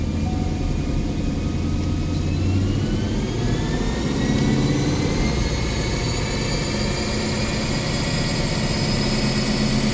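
Ford Coyote engine fitted with a 350 intake manifold, 350 throttle body, stock cold air intake and catalytic converters, running on E85, revving up toward about 7,700 rpm, a loud steady rising roar filling the whole stretch with no talk.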